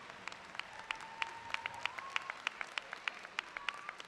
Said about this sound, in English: Please join me in another round of applause for our speaker this evening, Mr. T.J. Rose.